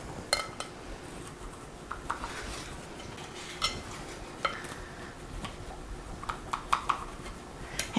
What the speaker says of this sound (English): I'm just going to go ahead and run my knife through them on those lines that I cut